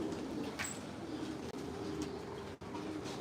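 Pigeons coo in a breeding loft with pairs kept in separate compartments, soft low cooing under a steady ambient hiss, fairly faint and continuous with no talking.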